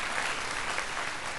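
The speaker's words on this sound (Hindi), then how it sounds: "इन सब के लिए एक बार जोरदार ताली बजाओ" An audience at a large Swami Ramdev gathering on Swadeshi economic freedom claps loudly in a dense, continuous burst of applause.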